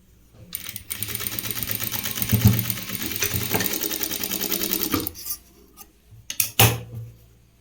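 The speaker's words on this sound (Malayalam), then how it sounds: "ഇതിൻ്റെ സ്റ്റിച്ച് റെഡിയായി നിൽക്കാൻ വേണ്ടിയിട്ട് ഇങ്ങനെ അടിച്ചു കൊടുക്കണം" A sewing machine stitches a blouse, its needle running in a steady fast mechanical whir for about five seconds, then stopping and giving a few short bursts.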